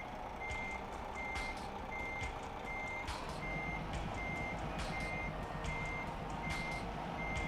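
Truck reversing in Euro Truck Simulator 2, a steady series of evenly spaced high beeps repeating over a low idling diesel rumble, moderately loud and continuous with no talk.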